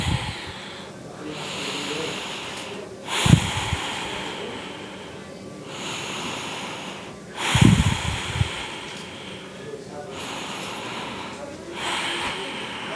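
Slow, deliberate breathing during a yoga pelvic floor exercise, with two loud, close, snorting inhale-exhale bursts separated by longer stretches of quieter hissing breath.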